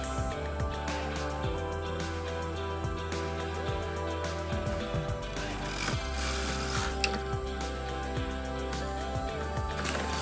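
A Knitmaster knitting machine carriage sliding across the needle bed, giving a steady mechanical clatter with repeated ratcheting clicks and gear-like whirring over about ten seconds, close and continuous with no speech.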